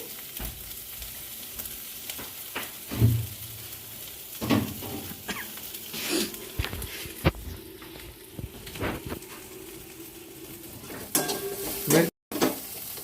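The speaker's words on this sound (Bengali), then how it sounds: "মশলাটা একটু ভাজছি ভালো করে" A spice mix fries in a pan, with a continuous sizzle broken by repeated scraping stirs and occasional clinks of a utensil against the metal, ending in a sudden cut.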